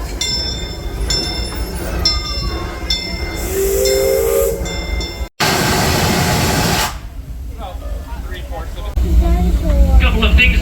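Disneyland Railroad train at the Magic Kingdom, with a hissing steam release, a whistle and rolling rail noise, loud and close, interspersed with announcement-style voices.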